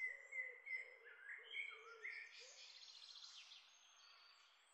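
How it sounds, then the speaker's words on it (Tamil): Soft birdsong in a natural setting: several faint chirps and whistled calls overlapping and repeating, quiet and distant-sounding, with no voices. "மெல்லிய பறவைகளின் குரல் ஓசைகள்"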